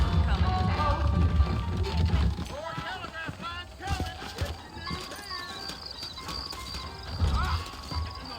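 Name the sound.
horses trotting with hooves clip-clopping in Red Dead Redemption video game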